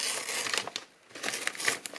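Adhesive tape peels and crackles off a toy package close up, with bursts of crinkling plastic, a brief pause, then more sticky tearing and rustling.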